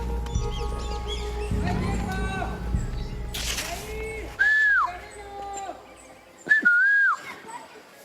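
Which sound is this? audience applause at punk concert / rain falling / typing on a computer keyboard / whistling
whistling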